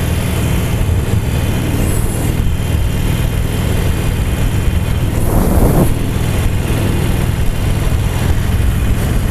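Harley-Davidson Iron 883 motorcycle engine while riding, a steady loud low rumble with wind noise that holds throughout and swells briefly near the middle; no one speaks.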